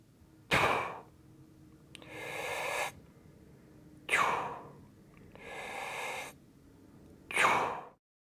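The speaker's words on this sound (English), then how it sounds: "In terms of breathing, this is how it should look like." Forceful breathing during a weight-lifting exercise demonstration: sharp inhales alternating with longer, steady exhales in a repeating rhythm, close and clear with no talking.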